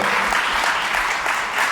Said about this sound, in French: Merci beaucoup pour applaudir